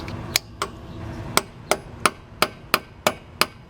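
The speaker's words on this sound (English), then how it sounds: "and you can tap it on." A 3/4 socket is hammered onto a stuck locking lug nut on a 2001 Jeep Wrangler, about nine sharp metallic taps in a fairly steady rhythm, close and clear with no talk.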